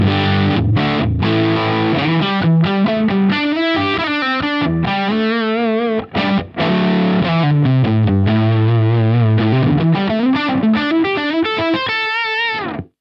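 A distorted electric guitar on a Telecaster bridge pickup through a Helix plays a melodic lead line with sustained, bending notes and a lingering reverb tail, loud and alone.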